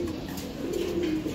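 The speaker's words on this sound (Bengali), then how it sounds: "এটা পাল্লা লাইনের কবুতর।" Palla line pigeons at a bird market give a low, steady cooing that runs unbroken through the short moment, moderately close, with no talk over it.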